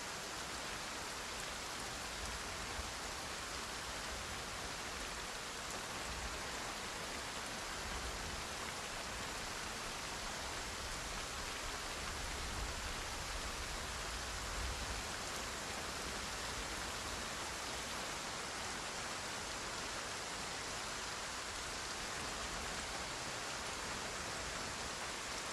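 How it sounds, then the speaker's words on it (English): Heavy rain in the zombie survival game Project Zomboid, a loud, unbroken broadband wash of falling water filling the whole stretch with no talk over it. "Maybe it's just the rain."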